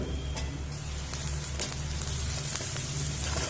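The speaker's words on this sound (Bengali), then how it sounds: "দেখুন পেঁয়াজটা আমি হাফ মতো ভেজেছি" Onions frying in a pan with salt and turmeric, cooked until half browned: a steady, crackling sizzle with scattered pops, moderately loud and continuous, with no voices.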